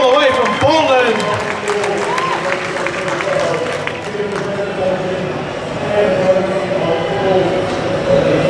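Crowd applause and cheering for a female powerlifter at a squat competition in Australia, loud continuous clapping mixed with a voice talking through it and scattered shouts.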